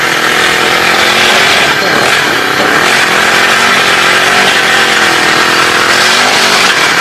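A grass cutter weeding machine with a clutch runs steadily at close range, its loud two-stroke engine whining continuously for the whole stretch, as used for clearing grass between banana and pomegranate plants.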